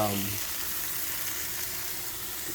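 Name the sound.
sautéing shallots and green onions in a pan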